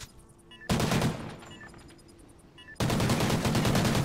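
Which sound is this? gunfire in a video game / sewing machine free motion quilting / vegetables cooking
gunfire in a video game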